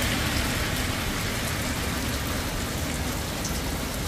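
Heavy rain with large drops falls steadily, a dense, loud, continuous patter that fills the whole stretch with no voices over it.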